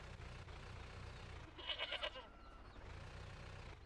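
A goat in a video game bleats once, a brief wavering call over steady low background noise, faint and with no speech.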